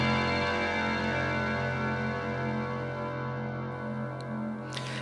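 Bell-like synth tone from the middle channel of the Heavyocity Mosaic Leads Aeronautics snapshot, a sustained, steady, shimmering chime that holds evenly throughout without breaks.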